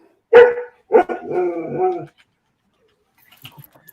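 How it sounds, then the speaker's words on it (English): A dog barks twice nearby, a sharp yap followed by a longer, rougher bark, then quiet with faint rustling. "I hear dogs barking."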